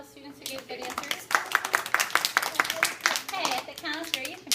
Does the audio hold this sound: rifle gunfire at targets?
no